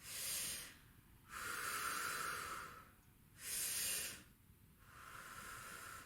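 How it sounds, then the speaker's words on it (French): Slow, deep breaths during a singing warm-up exercise expanding the ribs sideways: airy inhales and exhales alternate in long, soft, close-up cycles with no talking. "4 bonnes respirations en largeur"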